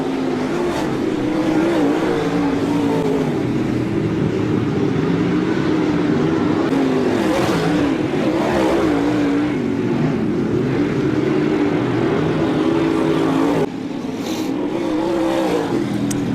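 Race cars, including the 09D, the 86 and the 5X, run together on a racing circuit, their engines droning loud and steady with rising and falling pitch as they chase through the field, and a short dip near the end.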